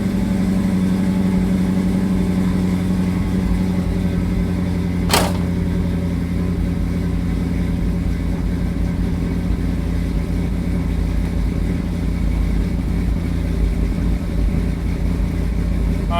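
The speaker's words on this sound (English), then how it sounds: "we'll let the car warm up here for a minute" A Chevy wagon's carbureted engine idles steadily while warming up after sitting a couple of weeks, a constant low rumble with one brief sharp click partway through and no talking.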